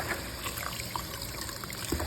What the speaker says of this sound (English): So wash it in cold water.